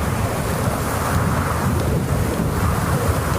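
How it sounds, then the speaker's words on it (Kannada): Storm sound effect from a horror film: a steady, dense roar of wind and rain with low rumbling thunder, loud and unbroken throughout, with no voices. "ಇದೇ ಟೈಮಲ್ಲಿ ಕಿತ್ತೋಗಿರೋ ತರ ಎಡಿಟ್ ಮಾಡಿರೋ ಒಂದು ಬಿರುಗಾಳಿ ಎದ್ದೇಳುತ್ತೆ"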